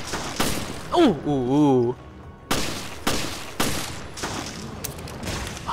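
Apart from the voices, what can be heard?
gunshots in video game Resident Evil Revelations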